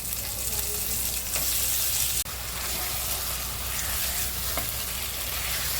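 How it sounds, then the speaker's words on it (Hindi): Chicken pieces frying in masala in a pan for a Kokani aali pani chicken recipe, giving a steady, loud, continuous sizzle with faint stirring and one brief dip midway, no talking. "अभी इसमें चिकन डालेंगे और ये मसाले के अंदर चिकन को अच्छे से भुनेंगे।"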